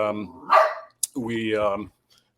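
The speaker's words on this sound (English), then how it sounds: "Oh no, the dogs like to join the show every now and then." Dogs bark indoors in a home, two or three sharp, clear barks close by, separated by short pauses and then silence.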